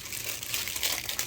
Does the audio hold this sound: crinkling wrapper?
yes